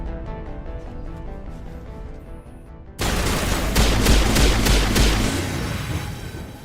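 Gunfire from snipers in the video game Mass Effect: a dense burst of rapid, loud shots breaks in suddenly after a quieter stretch of game ambience, with no voices.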